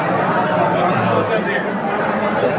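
A packed ground of devotees gathered for a Thursday darshan of Anirudh Bapu fills the air with dense, steady crowd chatter, a continuous wash of many overlapping voices with no single speaker standing out.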